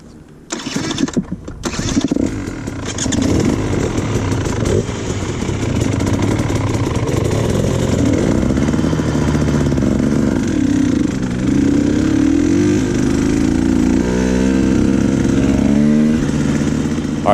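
A KTM 150 XC-W two-stroke dirt bike starts with a few sharp bursts, then revs and drones loudly and continuously as it rides, pitch rising and falling with throttle.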